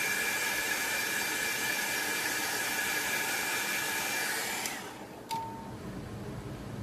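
A hair dryer blowing over alcohol ink layers to dry them between coats, a steady loud whooshing hiss that cuts off near the end, followed by a brief click and a lower fading hum.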